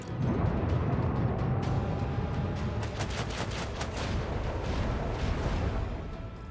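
Lance batteries fire a volley in the Warhammer 40,000: Rogue Trader game, a dense rolling barrage of booming blasts and crackling impacts that starts loud and keeps rumbling on for several seconds.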